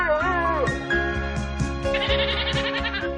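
A goat bleats in several wavering, drawn-out calls, loud and close over a steady harmonic background.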